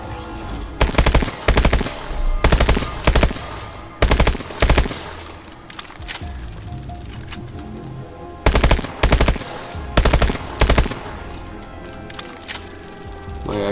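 An automatic gun in Call of Duty Advanced Warfare fires in several loud, close bursts of rapid shots separated by short pauses, with quieter in-game background noise between bursts.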